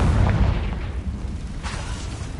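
A Confringo blasting spell explodes in Hogwarts Legacy, a heavy low boom that opens loudly and rumbles on, with a brighter crackling burst flaring up later in the sustained blast.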